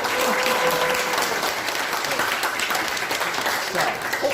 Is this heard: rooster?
no